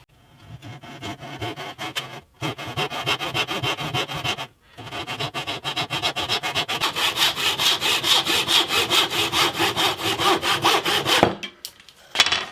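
Rapid, steady back-and-forth hand sawing to trim the wooden top of a hollow-body electric bass, loud and close, with two brief pauses before a final few strokes.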